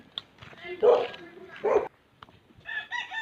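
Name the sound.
chickens, rooster crowing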